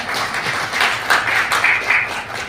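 A crowd at a live stage event claps in a brief burst of applause, swelling in the middle and easing off, fairly close and loud, with no clear talking.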